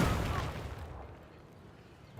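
A naval ship's barrage on a land target in the Civilization strategy game lands as one heavy booming blast that rumbles and fades out over about two seconds.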